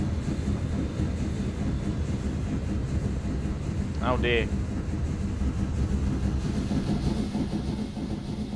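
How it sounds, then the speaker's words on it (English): Trains running in the simulation game Transport Fever 2, a steady loud rumbling engine and rail drone throughout, with a brief spoken remark in the middle. "Those trains are awfully loud."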